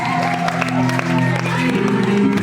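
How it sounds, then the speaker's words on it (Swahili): Wedding guests applaud the couple's vow at a wedding party, with dense clapping and cheering that runs steadily throughout, mixed with voices and music. "Pigie makofi kwa kiapo kizuri."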